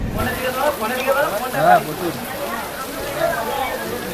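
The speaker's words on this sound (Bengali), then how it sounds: "বৃষ্টি কমেনি এখনো, বৃষ্টি পড়ছে।" Steady rain falls at Dakshineshwar Kali Temple in Kolkata, a continuous close hiss of drops on surfaces, with voices talking over it throughout.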